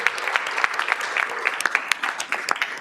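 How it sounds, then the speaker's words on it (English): Audience applauding students at a school district governing board meeting, a brief round of moderately loud, scattered clapping with individual claps standing out, fairly close. "give them a round of applause because it's all about the students"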